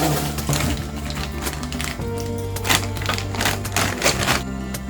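A knife chopping frozen ingredients on a board in a home kitchen, rapid dense taps in an irregular fast rhythm, close and fairly loud, with tonal hum beneath.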